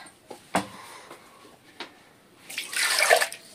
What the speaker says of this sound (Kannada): ಇವಾಗ ಇದು ನೀರ್ ಜಾರ್ಗೆ ನೀರ್ ಹಾಕಿರೋದು ಶೇಕ್ ಮಾಡಿ ಹಾಕ್ತಾ ಇದೀನಿ ನೋಡಿ